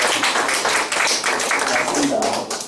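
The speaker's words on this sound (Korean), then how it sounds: "일단 박수 한번 드리시죠." A classroom audience at a Korean polytechnic teaching session claps together, steady, close, fairly loud applause that fades out near the end.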